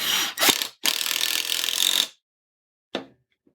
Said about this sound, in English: This impact gun is very loud.